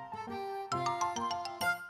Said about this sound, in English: Just then the doorbell rang.